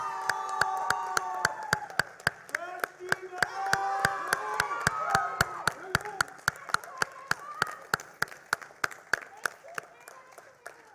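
An audience at a company team competition claps in steady rhythmic unison for the winning team, sharp evenly spaced claps under loud cheering and shouting voices that fade toward the end.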